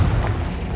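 A Confringo blasting spell from Hogwarts Legacy lands as a short, heavy low boom, close and loud, lasting under a second with no other sound around it.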